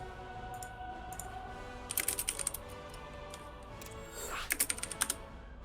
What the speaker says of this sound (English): I'm just enjoying the keyboard ASMR.